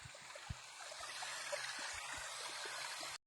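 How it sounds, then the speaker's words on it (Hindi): Vinegar poured into a pan of beef frying with salt for a black pepper beef dish, a steady hiss and sizzle dotted with small pops and crackles, close and continuous for about three seconds, no talking. "ये 2 टेबल स्पून हमने सिरके के डाल देने।"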